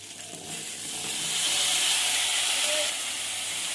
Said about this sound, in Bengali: সবজিগুলো সব ভাজা ভাজা করে নেব।